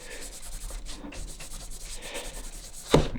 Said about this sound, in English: we just start rubbing it on